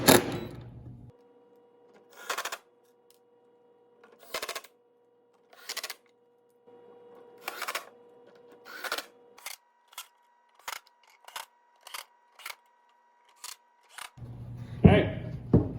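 Pocket screws driven into a wooden cornhole board, a series of short drill bursts, some with a steady whirring hum, stopping and starting in quick repeated runs, close and clear, with louder handling noise at the start and end.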